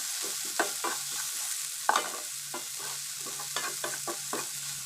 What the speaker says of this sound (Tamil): இதை இப்போ நல்லா சேர்த்து வதக்கி விட்டுக்கலாம்